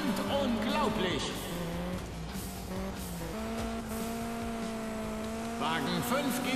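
A race car in the video game Juiced 2 accelerates at full throttle, its engine note climbing and holding steady, with brief tire noise, under continuous talking.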